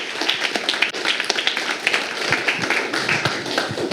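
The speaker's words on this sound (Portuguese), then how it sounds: "Uma salva de palmas ao Senhor" A church congregation claps during a service, giving steady, dense applause with many overlapping hand claps lasting throughout, moderately loud and close, without voices.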